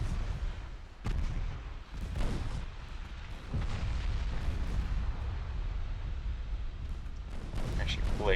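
The warship Galatea firing its guns in Ultimate Admiral: Dreadnoughts during a naval battle, with several heavy booming shots over a continuous low battle rumble and occasional sharper cracks.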